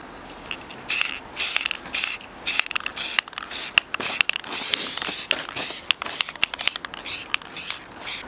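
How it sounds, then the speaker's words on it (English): Short bursts of aerosol spray paint hiss repeatedly in an irregular rhythm, close and crisp, each burst lasting a fraction of a second to about a second, coating a piece in brass-coloured paint. "I'm now going to spray the whole piece brass coloured."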